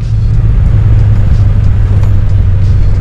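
A motorcycle engine running under throttle gives a loud, steady, close low rumble with no clear rise or fall in pitch across the short stretch.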